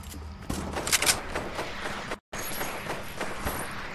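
Gunfire in a PS4 shooter game comes as a run of sharp, clustered shots and crackling bursts with footstep-like clatter, fairly faint, with a brief drop to silence near the middle.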